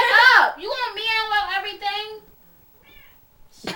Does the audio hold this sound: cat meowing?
yes